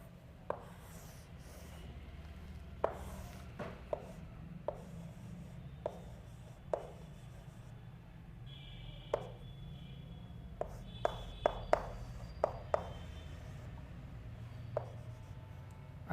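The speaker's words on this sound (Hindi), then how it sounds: "तो अब मैं लिखता हूं" A teacher writing numbers on a classroom board during a class 6 maths lesson, with soft scratching strokes and a dozen or so sharp taps spread irregularly over a low steady background hum.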